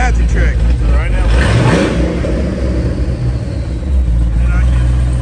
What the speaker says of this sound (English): And then he closes the cutouts, and now all the exhaust comes back out of the rear of the car.